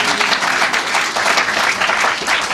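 Steady, dense applause from an audience at a talk on race, space and design, loud and continuous throughout with no voices standing out.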